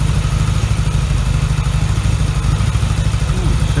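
A Yamaha XS650 motorcycle engine idles steadily close by, a constant low throbbing rumble with mechanical clatter running unbroken from start to finish.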